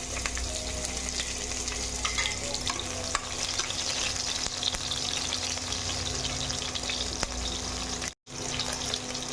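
Chopped onions hit hot oil tempered with panch phoron while a Bengali rui fish curry gravy is started, giving a steady, close sizzle with stirring throughout and a brief break near the end.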